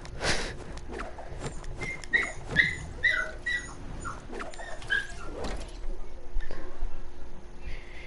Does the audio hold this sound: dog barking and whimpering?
yes